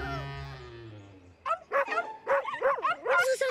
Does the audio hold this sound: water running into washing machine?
no